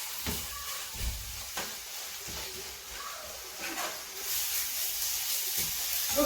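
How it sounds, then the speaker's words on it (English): Food frying in a pan for a carrot lasagne gives a steady hissing sizzle with occasional sharp crackles and spatters. It is close and moderately loud and grows brighter toward the end, with no talking. "Okay, you allow it to fry."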